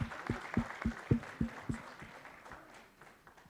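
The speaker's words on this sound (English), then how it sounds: "Please, let's give a big round of applause." A conference audience gives a round of applause in a hall: a short burst of scattered, fairly distinct claps at a moderate distance that thins out and fades within a few seconds.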